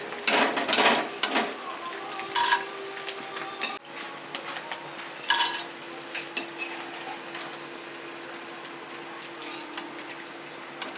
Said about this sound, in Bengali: বাকি যতটা আছে সবটা ভেজে নিচ্ছি এইভাবে